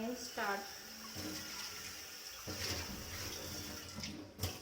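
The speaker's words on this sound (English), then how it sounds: "We just need to clean it with normal scrubber." A greasy non-stick pan is washed under running water with a normal scrubber, making a continuous close splashing rush with scraping scrubs, while someone talks over it.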